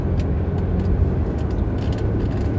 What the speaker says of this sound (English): There's just a convergence of like 4, 5, 6, 7 cars at the same time.